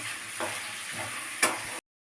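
Vegetables fry in hot ghee with spices, a steady close sizzle broken by a few scraping stirs of the spoon, one sharper clatter near the end; no talking.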